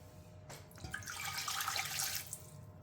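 Liquid pours in a soft, steady stream for about two seconds, quiet and close, with a faint splashing texture.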